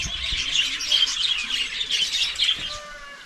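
Birds chirp and tweet continuously around a rural yard with calamansi, avocado and rambutan trees, a busy, fairly close chorus with no talking.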